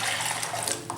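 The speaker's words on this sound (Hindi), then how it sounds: "हमने ये पानी इसमें शामिल कर लेना है" Water poured into a cooking pot of kadhi made with besan, a loud, close, continuous splashing stream with no talk over it.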